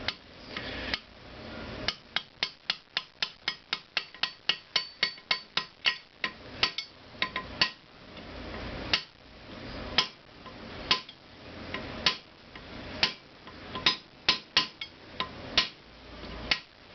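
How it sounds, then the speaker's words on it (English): Metal clanks ring out as a hammer strikes an iron rod while working on a Honda CX500 engine part, first in a quick even run of blows, then slower, irregular hits with ringing tones. "Get the hammer and an iron rod to"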